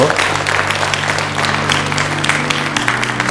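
Steady, dense applause from a sizable crowd fills the whole stretch, loud and continuous with no pauses.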